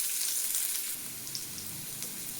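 Onion frying in oil in a pan while a fish curry is prepared, giving a steady close sizzle that keeps on without a break and with no voices.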